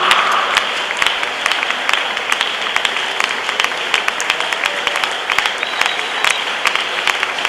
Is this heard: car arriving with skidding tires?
no